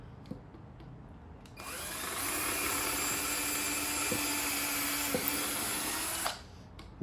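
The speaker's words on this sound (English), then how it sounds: "Let's go ahead and pre-drill this real quick." A power drill pre-drilling wood in a small van whirs steadily for about five seconds, close and fairly loud, spinning up and then stopping, with a faint click or two underneath.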